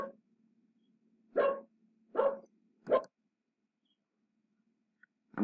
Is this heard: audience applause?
no